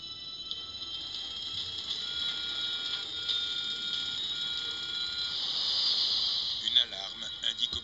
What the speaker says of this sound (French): Une alarme indique au pilote qu'il y a un problème.